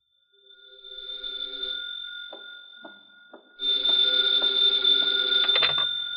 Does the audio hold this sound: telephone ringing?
yes